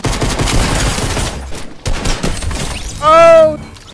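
Rapid gunfire bursts in the Fortnite video game, landing a double headshot in a solo cash cup match, crackling loud and close in two dense volleys before a short shouted voice cuts in.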